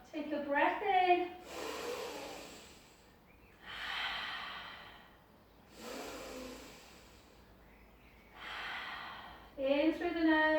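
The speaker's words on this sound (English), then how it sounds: "In through the nose. Out through the mouth." Slow, paced Pilates breathing, with soft airy inhales through the nose and longer exhales through the mouth repeating in even cycles, close and quiet. A voice speaks briefly at the start and the end.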